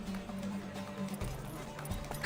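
Horses gallop in a race in The Witcher 3, a steady clip-clop of hooves running close and fairly loud under game music and shouted voices.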